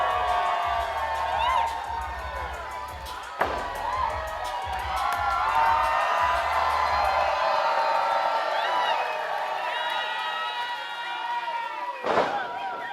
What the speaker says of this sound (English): this sold-out crowd, the 11th consecutive sellout in RVA Pro history, chanting "Clap Them Cheeks"